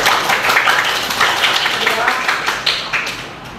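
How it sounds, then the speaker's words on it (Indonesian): Students in an informatics classroom clap for a classmate: a short, close round of scattered, uneven hand claps with quick taps, and voices mixed in. "Tepuk tangan untuk Indah"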